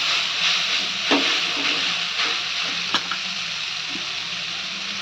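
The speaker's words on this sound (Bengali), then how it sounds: "এদিকে মা তখন কলমি শাকটা ভাজছে" Steady sizzling of water spinach frying in a pan, with a few soft scraping stirs and clinks over a continuous hiss.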